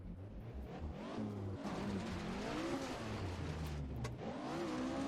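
Racing video game car engine cranking to life and revving hard, a steady loud drone with rising and falling pitch sweeps, some tyre squeal near the end, no talking.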